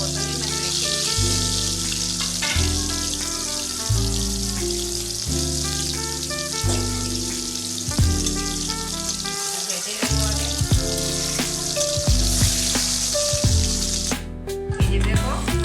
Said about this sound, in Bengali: দেখো আমি এই তেলটাতেই ডিমটা এখন ভেজে নিয়েছি